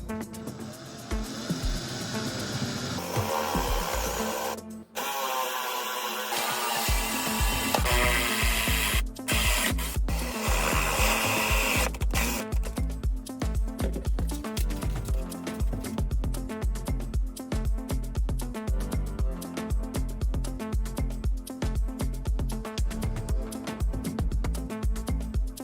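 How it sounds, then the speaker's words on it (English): A drill bores holes through the corners of a wooden sink cutout during a kitchen install in a Toyota Coaster motorhome, giving a loud, continuous grinding whir with a brief pause near the start. "drill a hole to round out the corners"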